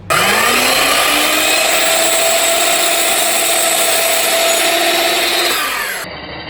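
Ridgid 12-inch sliding miter saw spinning up with a rising whine, then cutting with a loud steady roar for several seconds before winding down and stopping abruptly.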